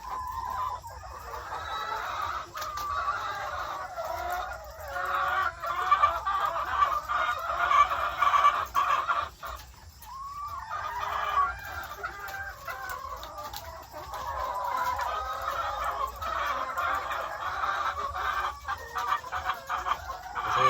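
Chickens cluck steadily and overlap throughout on a small poultry farm, with an occasional rooster call. The flock sounds close and fairly loud, with no talking.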